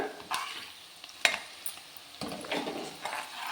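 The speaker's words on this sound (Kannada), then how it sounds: "ಫಾಸ್ಟ್ ಉರಿಯಲ್ಲೇ ಇಟ್ಕೊಂಡು ಇದನ್ನು ಸ್ವಲ್ಪ ಹುರ್ಕೊಳ್ಳೋಣ." Vegetables for fried rice are stir-fried on a high flame, with soft frying hiss and a few sharp clanks and scrapes of a spatula against the pan, close and quiet, with no speech.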